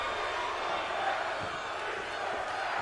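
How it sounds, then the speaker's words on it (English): Wrestling crowd at an indoor independent show, a sustained murmur of many voices chanting together at a moderate distance, with no clear single voice standing out over the brief stretch. "Crowd chant restart the match"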